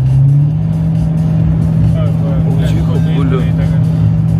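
A car engine revs hard on the drive to the Nürburgring, a loud steady drone heard from inside the car with people talking over it.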